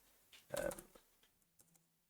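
A short burst of keyboard keystrokes clicks close by, a cluster of taps followed by a few scattered quieter clicks.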